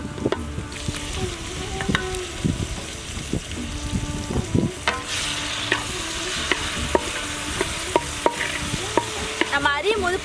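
Onion, garlic and tomato frying in oil for bitter gourd tamarind curry, a continuous close sizzle with steady stirring and spatula scrapes throughout, with no talk.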